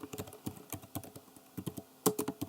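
Quick bursts of keystrokes on a computer keyboard as an assignment name is typed, close and crisp, with short pauses between clusters of taps.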